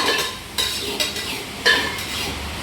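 Cooked cowpeas being stirred in a pot, a spoon scraping and clinking against the metal in irregular close strokes over a soft steady hiss.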